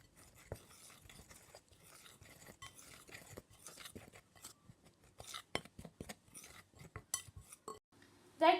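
Spices and flavourings for zucchini fritters are stirred in a bowl, heard as quiet scraping and irregular clicks of a spoon against the bowl, growing louder and busier toward the end.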